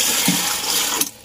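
Water gushes and splashes steadily as it fills a small garden fish pond, loud and close, before cutting off abruptly near the end.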